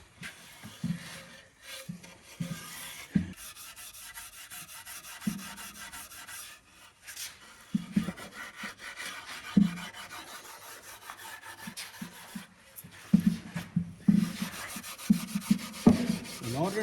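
Steel wool is pressed hard and rubbed over old wooden furniture to strip the finish, producing close, gritty scrubbing strokes in repeated bursts with brief pauses between them.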